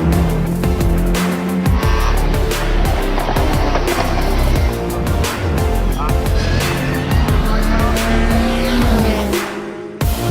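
A Gould single-seater race car with a 3.3-litre Cosworth engine on a hill climb run, loud and close, with a dense roaring engine, sharp gear changes and tire squeal throughout.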